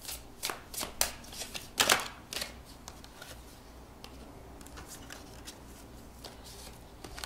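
Tarot cards shuffled by hand in a quiet room, a few crisp riffling bursts close up at first, then fading to soft handling.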